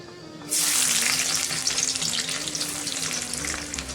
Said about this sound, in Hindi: तो फ्रेंड्स इसी तेल पे ऐड कर देंगे, थोड़ा लहसुन ऐड कर देंगे।